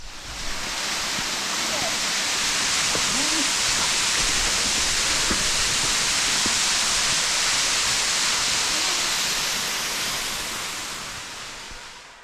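Steady roar of Broken Rock Falls in Hocking Hills State Park, a dense broadband rush that stays loud and constant throughout, with no voices.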